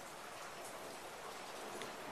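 Hard rain falls outside an old house during a storm, a steady dense hiss that is loud and unbroken, with no voices over it.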